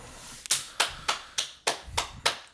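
Seven sharp hand claps ring out in a steady, slightly uneven rhythm, close and fairly crisp, with no talking over them.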